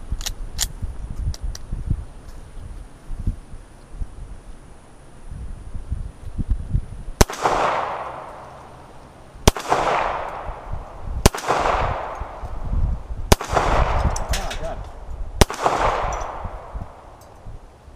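Handgun shots from a Star BM pistol firing steel-case rounds at outdoor targets: a low rumble first, then five sharp loud cracks spaced about two seconds apart, each with a short ringing decay.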